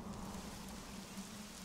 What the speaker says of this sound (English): we need a doozy of a downpour to make up for it is all.